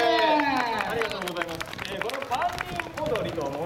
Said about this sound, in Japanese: カンニン踊りのコーナー、拍手。